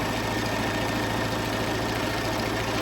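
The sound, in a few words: sewing machine stitching ironing board cover fabric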